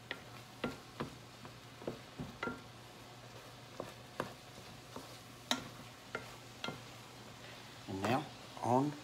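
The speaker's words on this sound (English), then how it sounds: "Give them one last good stir." A spatula scrapes and taps through set eggs in a pan, with a series of sharp, irregular clicks and knocks against the pan and a faint background hum, ending in a short burst of scraping.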